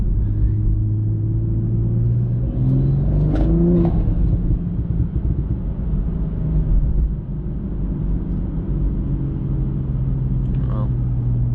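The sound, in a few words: tuned sports car engine revving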